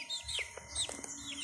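Faint, brief chirps and clucking from a chicken in a backyard, a few scattered calls over low background rumble.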